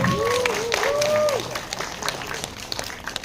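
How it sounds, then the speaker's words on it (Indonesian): Clapping from the crowd at a press conference for Danyang Wingit Jumat Kliwon, moderately loud, with a voice and a tonal sweep over the first second and a half before the applause carries on alone. "Boleh kita berikan tepuk tangan?"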